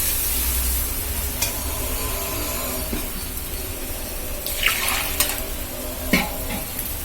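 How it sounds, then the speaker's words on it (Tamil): Water is poured into a pan of mashed tomato and onion for a spicy vadacurry, giving a hissing, sizzling splash with a few sharp bursts over a steady cooking hiss. "இப்போ இதில் நம்ம தண்ணி ஊற்றுவோம்."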